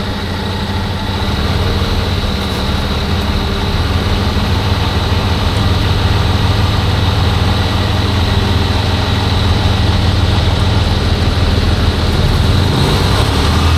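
A tractor-trailer's heavy diesel engine running steadily during a winch-out recovery, a loud continuous low rumble that holds close and even with only slight swells when the gas is bumped.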